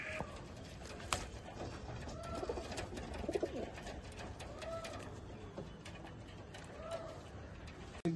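Pigeons coo in low, rolling phrases several times over a continuous background hum, with occasional faint clicks and movement noises.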